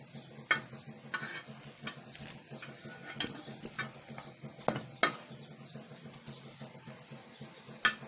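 Bottle gourd kebabs frying on a tawa give a soft, steady sizzle, broken by light clicks and taps of a utensil against the pan.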